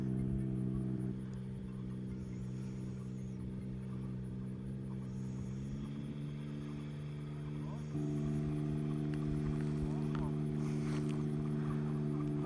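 A Tango 2 gyroplane engine running with rotor pre-rotation, a faint steady drone with layered tonal hum that steps up in pitch as the blades spin up, with speech heard intermittently.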